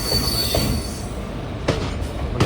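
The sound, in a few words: Intercity Express train moving on the track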